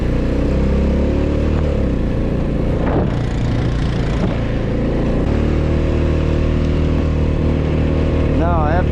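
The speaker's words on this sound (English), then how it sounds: "See if we can make it through this deep snow with this four-wheeler." A four-wheeler engine drones steadily and loud as it pushes through deep lake-effect snow, with small shifts in pitch as the rider works the throttle.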